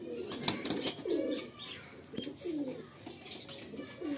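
Soft, rolling coos come in several separate phrases from a white-eyed male Malbai pigeon nearby, with a brief flutter of wings and some faint clicks between them.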